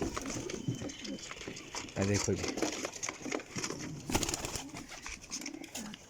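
Racing pigeons of a flying breed coo softly in a loft, low repeated throaty calls with wing rustles and crinkling, while someone talks nearby over them.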